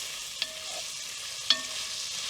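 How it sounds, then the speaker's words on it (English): Shallots and garlic heads fry in a pan alongside bacon during a coastal wild game cook, giving a quiet even hiss with two sharp utensil taps about a second apart, and no voices. "in goes the shallots and also the garlic heads"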